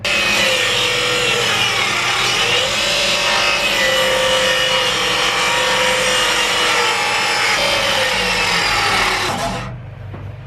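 A power saw rips steadily through a wooden board for toy blocks, a loud, continuous whining drone with a slightly wavering pitch that cuts off abruptly near the end.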